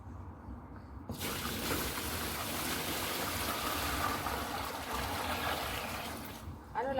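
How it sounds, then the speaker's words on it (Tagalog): Water runs into a bucket for pet turtles, a steady gushing splash that starts abruptly after a second and continues loudly and close for several seconds before cutting off near the end. "Dito ako maglalagay ko ng 2 balde na tubig."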